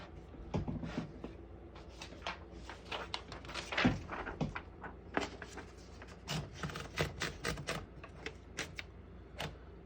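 A 1951 Royal Quiet De Luxe vintage portable typewriter is in use, with irregular bursts of sharp key strikes and mechanical clacks and thumps, heard close and fairly quiet with short pauses between bursts.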